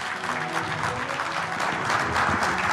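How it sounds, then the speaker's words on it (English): Sustained audience applause at a business summit in India, a steady dense clatter of many hands clapping at fairly even loudness throughout, with no talking over it. "let's give Mr. Abbott a big round of applause."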